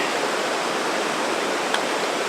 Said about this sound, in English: This is the Tuolumne River, right here, heading to Hetch Hetchy.